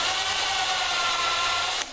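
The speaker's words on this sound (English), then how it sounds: "Drill a little at a time," A steady, loud drill whirs with a high whining tone for nearly two seconds while drilling into wood on a kayak, then cuts off abruptly.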